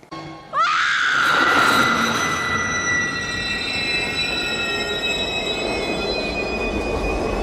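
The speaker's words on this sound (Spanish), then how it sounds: "los raíles como suenan del frenazo del metro" A subway train brakes hard with its rails squealing, a sudden loud, piercing metallic screech that sustains over a deep rolling rumble of wheels and carriages, close and continuous after a brief quieter lead-in.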